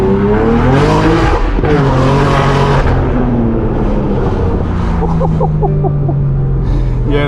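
A BMW M4 G82 with a DCT gearbox downshifts hard, the engine note climbing and dropping through several quick shifts, loud and close from inside the car with crackles as it slows.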